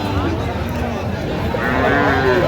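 A Pakra bull of Shahiwal type lows at a busy Chittagong cattle market, a drawn-out bovine moo rising over dense crowd chatter and background bustle.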